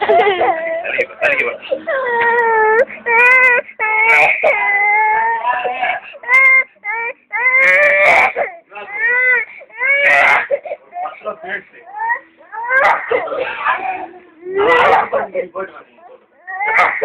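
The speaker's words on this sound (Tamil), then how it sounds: "கையை விட்டுரு அவன் அழுகுறான்." A young boy cries loudly and close by, with wavering wails and whimpers broken by sobbing breaths. An adult voice talks in between the cries.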